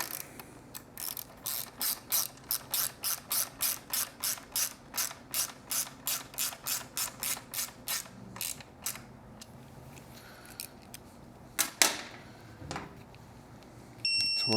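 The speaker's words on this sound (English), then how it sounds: "And with your 5mm hex bit, get that tightened up." A 5mm hex bit on a ratchet tightens shock hardware on a Triumph motorcycle, giving a long run of regular close clicks that slows and breaks into scattered clicks and a few clanks near the end.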